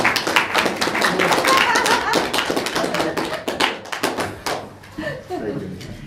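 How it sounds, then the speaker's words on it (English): An audience applauds a panel at a talk, a dense spell of clapping that fills most of the stretch and then thins into scattered claps near the end. "a round of applause for our panel."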